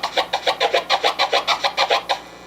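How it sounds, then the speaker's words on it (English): Clean turntable scratch chirps repeated in an even, rapid rhythm, about ten sharp bursts in two and a half seconds, close and alone without any talking. "but this kind of chirp sounds a lot cleaner."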